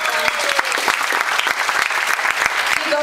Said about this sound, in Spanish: quiero que por favor le den un aplauso a todos estos artistas en potencia